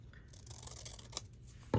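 Scissors snip through paper for a creative journal in a few quick, close, quiet cuts, with a louder thump at the very end.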